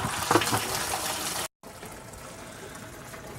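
Maple syrup drains from the valve of an evaporator pan, giving a soft continuous trickle and splash that pauses briefly and then resumes more quietly.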